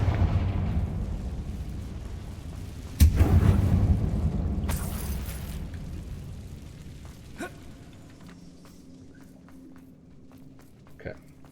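A Confringo fire spell explodes in a video game, one sudden low boom that rolls into a long, fading rumble with scattered crackles and a faint later thump.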